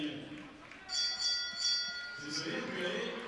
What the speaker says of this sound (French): il n'avait pas entendu la cloche